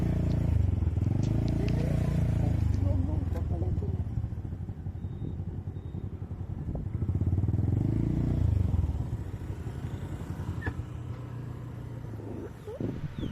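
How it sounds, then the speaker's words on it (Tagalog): A motorcycle engine rumbles nearby at low idle while the bike is maneuvered into a parking space, with clatter and light scraping and a couple of swells in engine sound. "Ipapark na muna namin yung motor."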